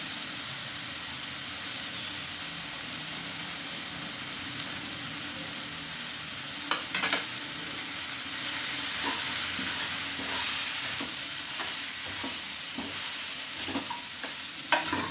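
Chopped coconut frying in a pan with chilli powder and coriander powder, a steady soft sizzle with intermittent scraping stirs of a spoon against the pan, no talking.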